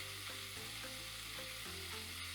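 Broccoli rabe frying in olive oil in a pan, a continuous close crackling sizzle heard alone with no talking.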